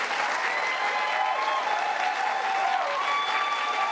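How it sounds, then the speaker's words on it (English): Applause from an audience during a played political speech, a continuous, even roar of many hands clapping, loud and unbroken from start to finish with no talk over it. "This is as everybody stands up and applauds"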